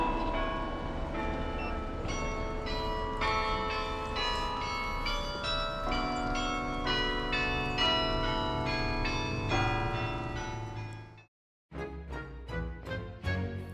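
Carillon bells of the Singing Bell Tower in Luray, Virginia, a 47-bell tower with a 7,000-pound largest bell, ring out a melodic sequence of overlapping tones, break off abruptly, then resume.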